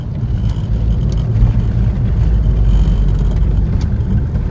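Repaired Fiat Palio engine running close and loud, a steady deep rumble that holds at an even level throughout with no voices.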